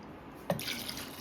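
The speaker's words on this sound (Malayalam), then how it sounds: "ഇത് നമുക്ക് വെള്ളം ചേർത്ത് കൊടുക്കാം." Water added to cut jackfruit seeds and green chillies in a stone pot for a Kerala curry: a brief splash onset, then a light, close running pour that carries on to the end, with no voices.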